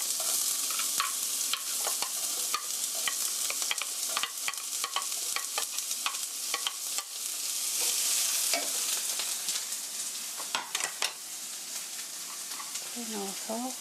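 Onion sizzles steadily in hot oil in a pan for a tomato rigatoni sauce, with frequent sharp clicks and scrapes from stirring over the continuous crackle, close and fairly loud throughout.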